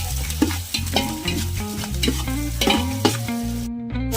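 Onion frying in hot oil with curry leaves for a jackfruit vegetable dish, a close crackling sizzle with repeated stirring scrapes, set against a steady tonal background.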